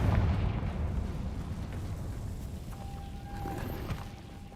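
Confringo spell explosion in Hogwarts Legacy, a deep rumbling blast that swells at once and fades slowly over several seconds, with a thin tonal ring near the end.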